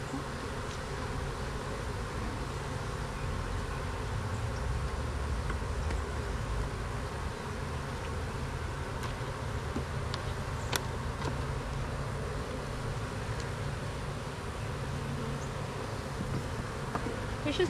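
Honey bees hum from an opened hive with few bees in it, a steady, fairly quiet drone that holds without a break, with faint scattered background noise.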